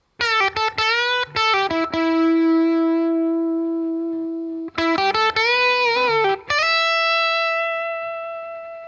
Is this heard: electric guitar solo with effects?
yes